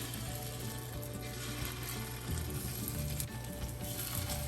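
Batter dropped into coconut oil in the hollows of a paniyaram pan, a soft, steady sizzle and crackle close by, with no talking.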